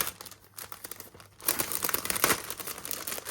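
A package of 14-count cross-stitch fabric is opened with plastic crinkling and crumpling, quiet and sparse at first, then a louder, denser burst of rustling and tearing that carries on to the end.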